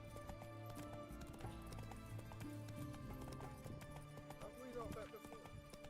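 Hooves of the horse Roach galloping in The Witcher 3, a steady clip-clop running throughout amid dense game sound, with a voice talking over it.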